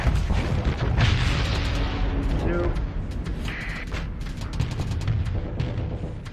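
Weapon fire and explosions rumble through a space combat battle in the Starsector video game, with dense, continuous booming bursts and muffled impacts layered under a steady roar of game sound.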